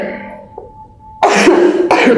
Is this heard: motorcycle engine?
no